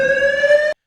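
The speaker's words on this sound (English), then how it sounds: "All you hear is alarms and things like that." An alarm sounding in a building lobby: a loud, steady electronic tone held for under a second before cutting off abruptly, with no talk.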